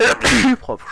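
A single sharp sneeze bursts out up close, loud and abrupt, followed by a brief moment of speech.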